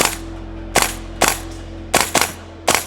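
Training replica AK rifle fired at an indoor range at a trade show: six sharp reports in uneven spacing, two single shots then a quick pair and more, each loud and close with a short ringing tail.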